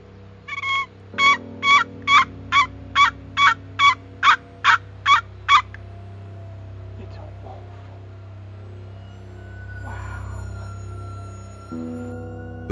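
A hunter's turkey call whistle imitates a wild turkey gobble in a forest with a wolf nearby, giving a rapid burst of about ten loud, sharp rhythmic yelps, followed by a quiet woodland background with a faint hum and distant sounds.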